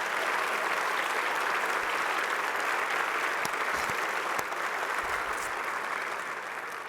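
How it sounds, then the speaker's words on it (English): Audience applause at a Space Symposium hall of fame dinner, a sustained, even wash of clapping from a large room, moderately quiet and tapering near the end. "Please give them a round of applause."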